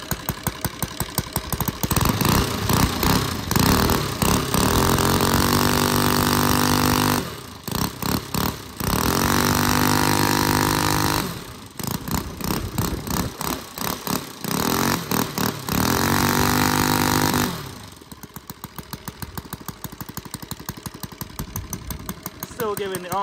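A small NGH GF-38 model engine runs loudly nearby with a rapid chugging beat, revving up and dropping back to idle several times, then slowing to a sputtering idle.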